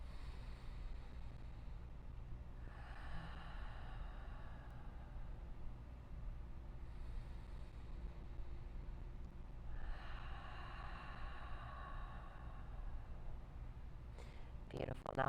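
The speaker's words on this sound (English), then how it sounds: "Inhales through the nose, exhales out the mouth." Slow deep breaths during a yoga cool-down, air drawn in through the nose and released out the mouth, two long soft breath cycles over a low steady hum, close and quiet.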